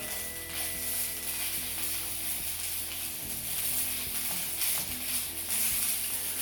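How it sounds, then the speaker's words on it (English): Onion gravy in a pan coming up to a boil while being stirred, a soft steady sizzle and bubbling with quiet spoon scrapes and taps against the pan, close and fairly low in level. "While it's coming to a boil, just continuously stir it."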